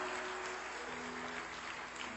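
A church congregation claps in sustained, steady applause throughout, dense and even, heard at a distance.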